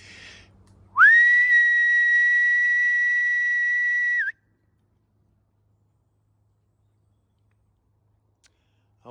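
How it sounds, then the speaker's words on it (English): A single long, steady high whistle blast, blown to call a Labrador in the New Forest, lasting about three seconds, loud and clear, followed by quiet. "Whistle again, shall I?"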